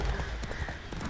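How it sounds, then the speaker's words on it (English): A horse in The Witcher 3 gallops off with quick, close clip-clop hoofbeats, a short burst with faint game ambience behind it. "Whoa, that horse ran off quickly."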